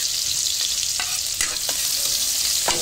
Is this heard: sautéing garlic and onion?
yes